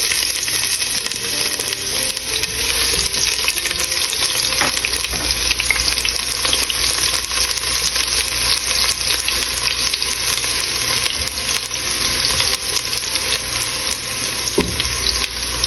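Onions sizzling steadily in a hot pan for a spicy liver masala, a loud continuous hiss with occasional faint clinks and stirring scrapes throughout.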